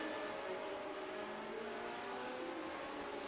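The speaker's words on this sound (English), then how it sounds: "Listening on board, he's on the revs, he's on the pedal." Lotus 79 race car engine in iRacing heard on board, a steady sustained high-revving drone with held harmonic tones throughout, loud and continuous with no pauses.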